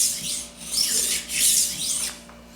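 A knife edge is honed on the stainless steel helix side of a Tumbler diamond rolling knife sharpener, heard as close, gritty rasping strokes, about three or four passes that swell and fade, with no talking.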